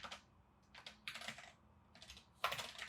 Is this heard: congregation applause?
no